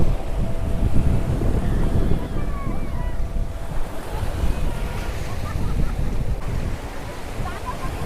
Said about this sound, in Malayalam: ഇതാണ് നമ്മുടെ ബോട്ട് സർവീസ്.